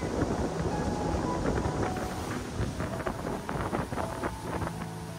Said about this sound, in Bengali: স্পিডবোট রাইডটা আসলে স্বল্প সময়ের জন্য হলেও বেশ রোমাঞ্চকর ছিল।